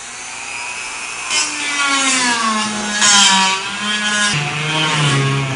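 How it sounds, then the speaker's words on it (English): A Dremel rotary tool with a sanding drum whines steadily while enlarging a hole in wood during stair renovation, its pitch dipping and rising as it bites into the material, loud and close with no talk. "it's a Dremel tool with a sanding drum on it"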